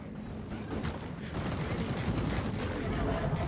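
Minigun fire in a video game, a dense continuous rattle of rapid shots that grows louder and steadier over a few seconds, with voices talking over it.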